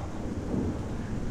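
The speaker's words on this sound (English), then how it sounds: "I'm sitting here outside and it's starting to rain in a couple of minutes. Can you hear that?" Steady outdoor rain with a low, continuous rumble of thunder, heard alone at an even, moderate level with no voices.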